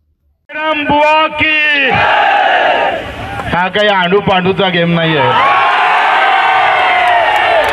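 A crowd at a bullock cart race in Amravati erupts in loud cheering and roaring. Someone shouts excitedly over the noise throughout.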